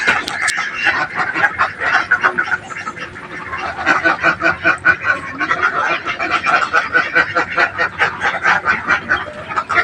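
Several ducks inside a village house quack and chatter steadily up close, with many short overlapping calls in a busy, continuous rhythm.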